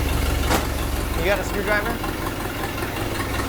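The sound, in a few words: old car engine idling after restart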